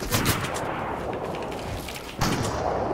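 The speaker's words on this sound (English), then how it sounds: "they're shooting at me" Rapid bursts of gunfire from a video game battle crackle continuously through the clip, loud and dense, with a heavier volley kicking in near the end.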